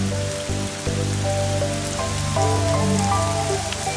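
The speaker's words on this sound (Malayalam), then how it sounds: "നിങ്ങൾ മഴയും കൊണ്ടാ വന്നത്." Heavy rain pours down outside a flat during the monsoon, a constant close hiss of drops under a soft sustained musical score, with no talking.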